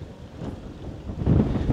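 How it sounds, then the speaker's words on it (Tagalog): Strong wind on Sabtang Island in Batanes buffets the microphone in low, rumbling gusts that swell louder toward the end, with no other sounds clearly audible. "Sobrang init and sobrang lakas din ng hangin."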